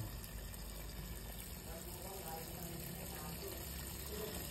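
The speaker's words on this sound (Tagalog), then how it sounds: "punuin na lang natin ng tubig hanggang sa ma-coat yung mga bangus from Dagupan" Tap water runs steadily into a pot of Dagupan milkfish sitting in Spanish sardine oil, a continuous broadband rush with low rumble, close and fairly quiet, with background voices faintly underneath.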